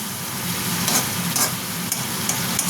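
Ginger and green chilli masala for a pabda fish and brinjal curry sautéing in hot oil, a steady close sizzle with a few light scrapes of stirring.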